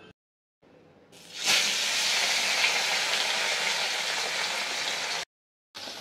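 Bori lentil dumplings frying in hot oil for a fish curry with aubergine and potato, a steady loud hiss that starts after a quiet moment, runs several seconds and cuts off abruptly, with no talk.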